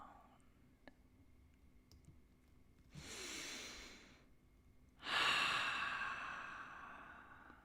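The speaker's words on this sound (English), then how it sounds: "take a deep breath into our hearts and exhale with sound" Two audible exhalations in a tantra breathing session, each a soft breathy rush of air lasting about a second, the second louder and more voiced like a sigh, over a quiet room with faint clicks.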